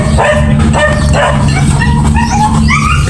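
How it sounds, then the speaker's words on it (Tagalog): Several dogs bark and yip on and off in the background of a garden setting, fairly close, with whimpering cries mixed in over a steady low hum. "Napakaingay po ng mga aso"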